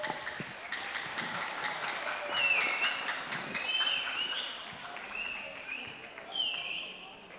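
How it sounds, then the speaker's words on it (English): An audience applauds at an elementary school's Filipino community cultural day, a dense, steady wash of clapping from a large crowd that swells around the middle and again near the end. "A round of applause, please."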